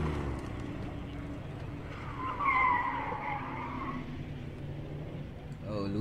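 A front-wheel-drive 2-liter turbo car runs a gymkhana test course, engine droning at a distance with a tire squeal mid-run, under an announcer's commentary.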